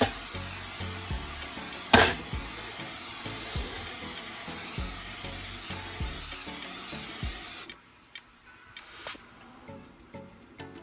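A can of Baker's Joy baking spray hisses steadily as it coats a fluted cake pan for a holiday fruit cake, one long continuous spray followed by a few light clicks and taps once it stops.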